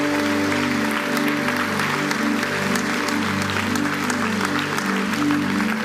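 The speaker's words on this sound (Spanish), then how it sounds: "Denle un fuerte aplauso al Señor." Church congregation applauding for the Lord during a Spanish-language sermon: steady, dense clapping sustained throughout at moderate level, with sustained musical tones, likely keyboard or organ, underneath.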